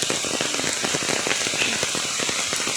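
Heavy all-night rain during flooding pounds down hard, a loud dense roar of drops drumming on a surface, with no talking.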